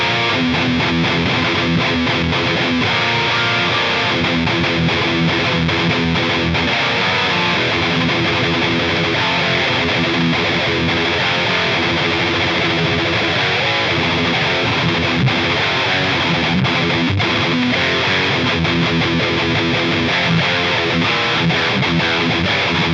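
Heavily distorted, crunchy electric guitar through a Line 6 HX Stomp plays continuously and loud, with thick sustained chords and no voices.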